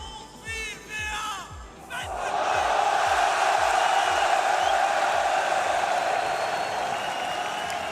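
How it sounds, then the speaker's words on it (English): Home crowd at the Rocket League World Championship 2025 playoffs, starting with rhythmic chanting and claps, then swelling into a loud, sustained roar of cheering that fills the arena. "Home crowd doing everything they can in their power to rally their man."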